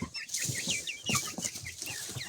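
Young chickens cluck and chirp steadily close by while drinking water, with repeated short high calls and soft low clucks layered over each other.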